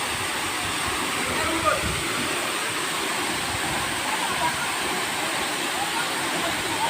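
Mountain water rushes steadily at a rural bathing spot, making a constant broadband wash that runs unbroken throughout.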